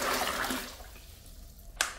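Room-temperature water, about ten litres, pours into a basin, a broad splashing rush that fades out, ending in a single sharp knock.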